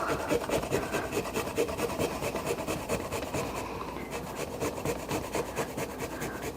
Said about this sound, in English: And I'm going to use my little grater.